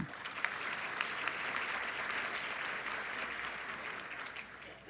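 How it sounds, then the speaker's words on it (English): Sustained applause from an audience at a Women's Equality Day event honoring the honorary chairs and speakers, steady, dense clapping lasting throughout without talk over it. "let's give them a round of applause also"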